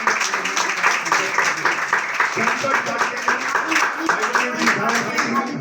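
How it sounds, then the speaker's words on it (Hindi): A church congregation at a Sunday worship service claps together in a dense, steady wash of applause lasting several seconds, loud and continuous, with voices mixed in. "जोरदार तालियां वचन के"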